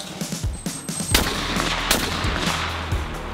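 Rapid gunshots on a hunting shooting training range in Suhl, Germany, loud, sharp reports in quick succession echoing over a low rumble, with several bursts through the stretch.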